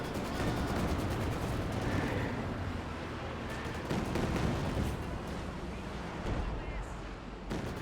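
An artillery barrage rolls on in the WWII strategy game Company of Heroes 2, with dense overlapping blasts and gunfire forming a constant roar and sharper cracks scattered throughout, while a commentator talks over it.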